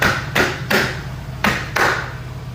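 A Tesla wheel center cap is pressed back into a freshly painted wheel, giving several short, sharp plastic taps and clicks at uneven intervals, close and fairly loud over a low background hum.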